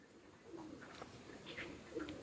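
Pigeons coo softly and close by in a low, rounded murmur, set among birds offered for sale. The cooing stands alone with no talk over it.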